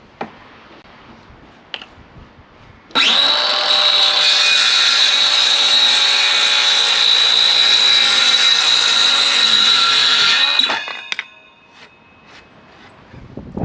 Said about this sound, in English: the saw just went straight through it